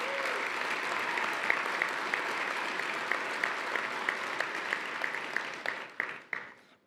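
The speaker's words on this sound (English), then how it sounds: "Let's give a round of applause to all those great," An audience at an annual awards dinner applauds its sponsors with steady, dense clapping that fills the room. It thins into scattered individual claps near the end, and there is no talk over it.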